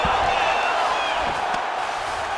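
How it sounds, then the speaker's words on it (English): Arena crowd in EA Sports UFC 5 rises in a broad, steady murmur and cheer during a grappling exchange, a dense wash of voices with faint whoops heard from a distance. "looked like that strike from the bottom fighter got the crowd's attention"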